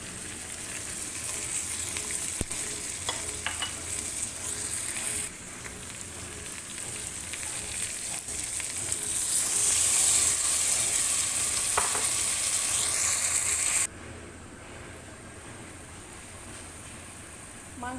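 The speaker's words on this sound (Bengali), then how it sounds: "মাংসটা কষানো হচ্ছে।" Meat is fried and stirred with spices and tomato in a pan, a steady dense sizzle with occasional utensil scrapes, louder for a stretch in the middle before dropping abruptly to a quieter fry.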